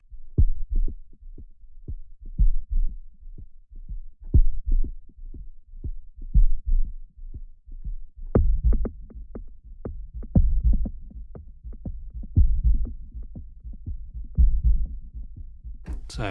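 Drum pulse synth patches play a steady arpeggiated throbbing pattern of thumping low hits, evenly spaced, with a thicker, busier layer joining halfway through.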